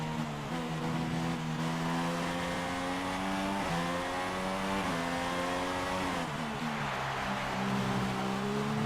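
A Formula 1 race car on track in F1 2016, its engine loud and close, revving through a rising pitch, then briefly dropping on gear shifts before climbing again, with no talking over it.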